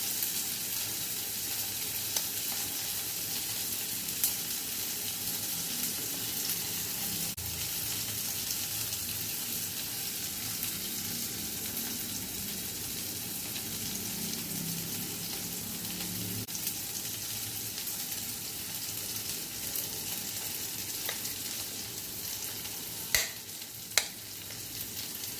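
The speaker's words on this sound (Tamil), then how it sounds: "வெங்காயம் வதங்கினோடனே தக்காளி, பெருங்காயம் இது வதங்கிட்டு இருக்கட்டும்." Onion, tomato and asafoetida sauté in a pan for a jackfruit seed curry, giving a steady, soft sizzle and fry that runs throughout with no talking, plus a couple of sharp clicks near the end.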